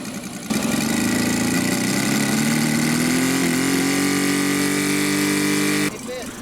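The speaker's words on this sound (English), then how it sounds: "the engine ticking over like a clock" Nitro or gas engine of a CY 84-inch-span F8F Bearcat RC model airplane idling steadily on the ground, a loud, close, even drone that starts abruptly and cuts off near the end, with pitch creeping slightly upward.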